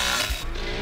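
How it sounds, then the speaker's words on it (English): Chainsaw revving in the Texas Chainsaw Massacre video game, a loud, dense, buzzing engine roar lasting under a second with no pause. "Celebrating, revving my chainsaw."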